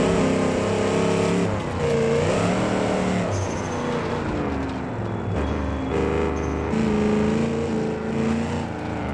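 Engine of a 6x6 off-road truck in BeamNG, a steady loud drone with shifting pitch as it revs and eases through rough terrain, continuous throughout with no talk over it.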